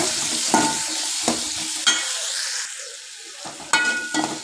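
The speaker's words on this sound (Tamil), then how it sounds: "அதையும் நல்லா கலக்கி விடுங்க நல்லா வணங்கட்டும்" Tomatoes sizzle steadily in oil as they are stirred in a pan for a Tamil eggplant (brinjal) kuzhambu, with spatula scrapes and bumps recurring every half second or so, close and moderately loud with no talking.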